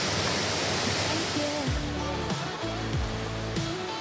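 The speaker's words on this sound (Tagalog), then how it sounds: "yung mga waterfalls" Waterfalls pour in a steady, broad roar of rushing water at a mountain village, loud and constant, with background music playing over it.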